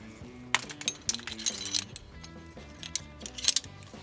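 Climbing quickdraw carabiners, including a locking draw, clink and jangle together in quick metallic taps and rattles, close and fairly loud, while setting up a top rope anchor on bolt hooks.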